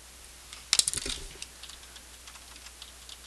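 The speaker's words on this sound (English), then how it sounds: "I'll type it to be faster" A burst of quick computer keyboard keystrokes clatters close by, followed by sparse, softer taps trailing off over a few seconds.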